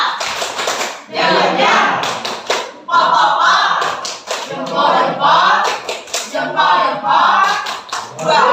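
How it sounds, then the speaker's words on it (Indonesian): A classroom group of teachers does a thumb clap, tepuk jempol, with bursts of quick rhythmic hand claps and taps mixed with chanted voices, close and loud throughout. "Tepuk jempol."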